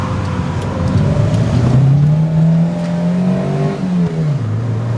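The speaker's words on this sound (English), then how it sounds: "we'll try again in first gear and then we'll gas it out of the corner" A car with a limited-slip differential accelerates hard out of a corner in first gear, its engine rising in pitch as it revs up, loud and close throughout.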